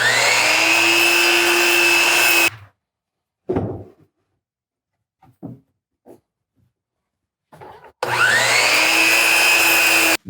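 A miter saw trims the rough factory edge off a 1x12 board, giving two loud sustained whining runs at the start and end with brief knocks and handling clatter between them.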